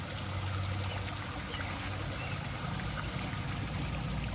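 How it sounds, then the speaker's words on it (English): Water pours down a memorial water feature at the Joplin tornado memorial, a steady broadband rush and trickle with no pauses, fairly close and alone without talk. "This is water coming down."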